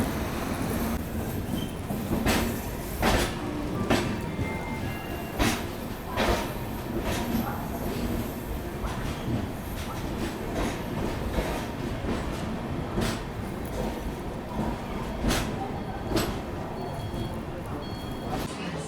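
The Pinakini Express rolls into Chennai Central station with a continuous rumble and repeated sharp wheel clatters over the rail joints, heard from on board amid faint background voices.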